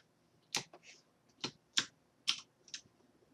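Computer keyboard keys are pressed in six sharp, separate clicks at an unhurried pace, near and fairly quiet, with no talk.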